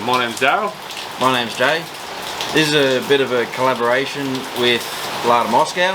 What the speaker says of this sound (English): Sorry for the rain, but it just won't stop.